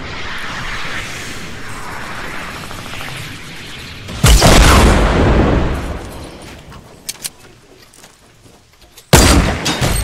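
Loud sniper rifle shots and booming impacts during a Fortnite squad match, heavy blasts at the start, around mid-clip and near the end, with smaller cracks in between.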